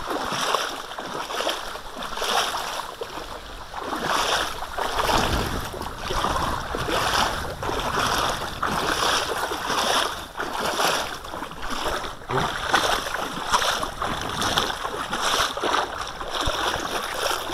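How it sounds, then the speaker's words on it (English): Hikers wading across an ice-cold mountain stream in Yosemite, with rushing, splashing water throughout and rhythmic surges as legs push through the current, fairly close and continuous with no talking. "we're about to do another water crossing"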